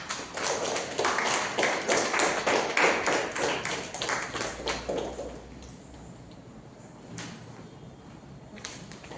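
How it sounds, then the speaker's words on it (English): Applause at a Toastmasters club meeting, a room of people clapping steadily for several seconds before it thins to a few stray claps, heard somewhat distantly. "Please give big applause."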